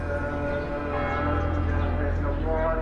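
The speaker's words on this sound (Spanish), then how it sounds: "solo el sonido de las campanas y de los almohacines revelan al viajero las numerosas iglesias y mezquitas" Church bells ring in Jerusalem, a steady sustained metallic tolling heard at a distance with a low continuous hum underneath.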